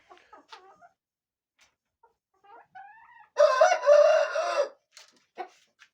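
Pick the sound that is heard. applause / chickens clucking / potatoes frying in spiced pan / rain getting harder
chickens clucking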